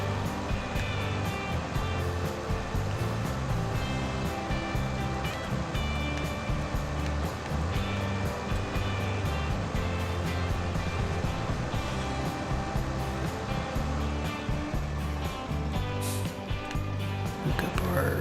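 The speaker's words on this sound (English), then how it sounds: "These tractors only go 26 miles per hour." A farm tractor in Farming Simulator 15 drives steadily at low speed, its engine drone constant and fairly loud throughout with no break, no talk over it.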